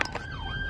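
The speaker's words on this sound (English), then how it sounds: "Ambulance and fire brigades." Ambulance and fire engine sirens sound in stalled traffic, a single wailing tone sliding in pitch for under a second, moderately loud.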